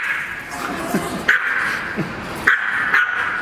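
Several dogs bark, yip and whimper excitedly on spotting another dog, a close, loud burst of repeated yelps and high whines in an uneven rhythm, with a voice faintly mixed in.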